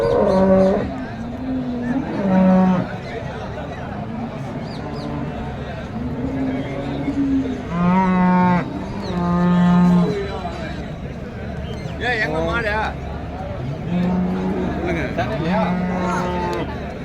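Cattle at the Karimangalam cow market moo repeatedly in long, deep calls, some near and loud, others farther off, over a busy outdoor background with vehicle rumble.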